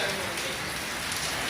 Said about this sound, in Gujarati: અત્યારે વરસાદ પડી રહ્યો છે.